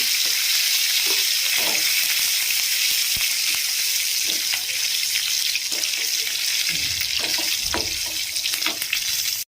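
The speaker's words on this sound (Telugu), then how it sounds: "ఎండుమిర్చి, కరివేపాకు, దీని మొత్తాన్ని మంచిగా ఫ్రై చేసుకోవాలి" Steady, loud sizzling of curry leaves and dried red chilies frying in hot oil, with occasional soft clinks of stirring throughout.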